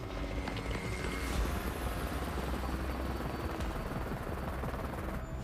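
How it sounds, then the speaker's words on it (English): A helicopter approaches over rough wilderness terrain, its rotor producing a steady, loud, rapid thumping chop that holds constant throughout with no voices. "Helicopter."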